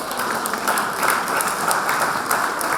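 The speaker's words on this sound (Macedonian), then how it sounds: "Јас би сакала еден аплауз за сите нас тука" An audience at a book promotion claps in dense, steady applause that fills the room from start to finish.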